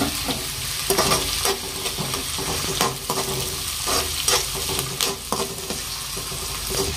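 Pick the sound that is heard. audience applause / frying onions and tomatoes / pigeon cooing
frying onions and tomatoes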